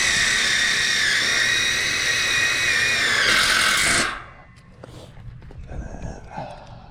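A power drill whines loudly and continuously as it drives screws into Versatube metal trusses, then stops sharply, followed by quiet clicks and handling sounds.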